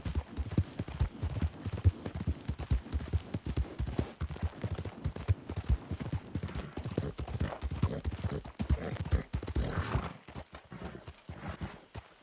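A horse's hooves clip-clop at a steady trot in the Red Dead Redemption 2 video game, a continuous close rhythm with light background ambience.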